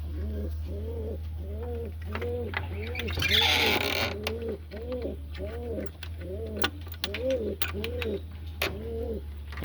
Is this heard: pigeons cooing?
yes